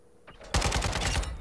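A rapid burst of automatic gunfire in Call of Duty Modern Warfare 2 opens after a short quiet lead-in, with about a dozen loud, close shots in quick rhythm.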